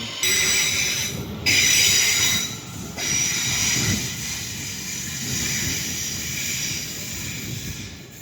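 Train on the North Staffordshire line via Stoke-on-Trent towards Stone, wheels squealing loudly on the rails over a hissing rumble, rising and dipping as it rolls along.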